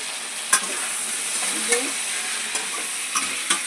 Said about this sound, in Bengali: এই দিকটা হচ্ছে মাছ, মাছের আলু ভাজছে